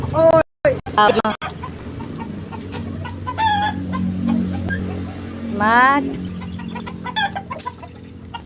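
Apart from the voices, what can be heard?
chickens clucking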